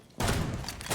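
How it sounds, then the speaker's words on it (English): Gunfire and explosions in Rainbow Six Siege during a competitive esports match erupt suddenly after a brief quiet and continue as a loud, dense burst of shots and blasts. "hearing those explosions starting to be a little bit of a concern"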